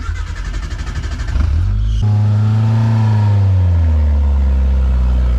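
A Suzuki Samurai off-road engine starts with a rough, pulsing idle, then revs up loud and close on the throttle, its pitch rising and then easing off in a long, heavy drone.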